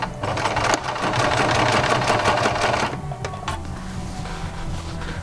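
Sewing machine stitching a second seam over the first to attach piping to fabric, a fast steady needle rattle for about three seconds, then slowing into a few separate stitches before stopping, close by.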